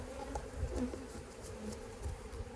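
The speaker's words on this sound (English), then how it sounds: "So I've got a bunch of bees here" Honey bees buzzing at an opened beehive during a varroa mite alcohol-wash test, a steady close droning hum with small swells as bees fly near, heard alone without talk.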